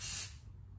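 A single short hiss of spray applied to a moustache, close and loud, fading quickly within a second.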